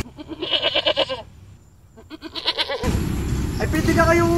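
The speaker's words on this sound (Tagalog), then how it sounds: "Ay, nakita ko inyong dalawang kambing." Two goats bleat in a rural yard, a few wavering calls in the first half with more cries over rising background noise, while people talk nearby.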